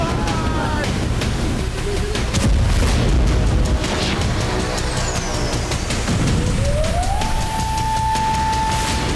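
Heavy booming rumbles and blasts from explosions in Kyiv during a Russian attack roll through loud wind-buffeted noise, with a rising siren-like tone near the end.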